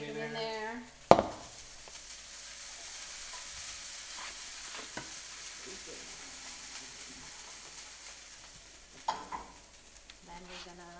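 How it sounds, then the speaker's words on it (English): Bacon is tossed into a pan with pasta, giving a soft low sizzle and quiet stirring under faint room noise, with a sharp clatter near the start and brief voices at the beginning and end. "You're going to throw your bacon in there."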